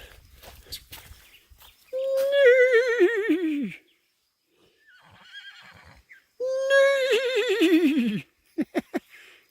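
A horse whinnies loudly twice, each a long wavering neigh, separated by a quiet pause with faint snorting and a few sharp clicks at the end.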